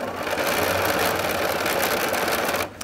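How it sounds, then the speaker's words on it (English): A sewing machine stitches a quilt block seam with a continuous, loud, close-up mechanical whir that keeps running before cutting off just before the end. "And we'll stitch that all the way down."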